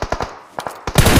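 Gunfire from the mobile battle royale game BGMI: a few sharp, close shots in quick succession, then a short pause and a louder, denser burst at the end.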